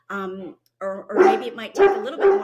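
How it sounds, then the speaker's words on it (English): A dog barks and whines loudly several times in quick succession, nearby, overlapping a person talking. "Sorry, that's my dog."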